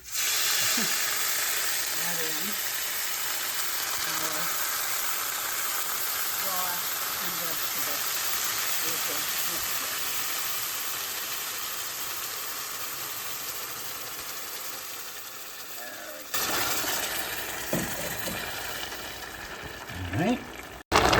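Liquid poured into a hot pan of browned rice sizzles and hisses loudly and steadily close by, with scattered spattering crackles; the hiss surges again near the end as more is added.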